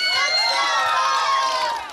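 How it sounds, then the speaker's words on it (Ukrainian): Outdoor karaoke show on a town square, where a crowd cheers and shouts steadily in the open air for a couple of seconds before the noise starts to fade. "Оплески Алексею"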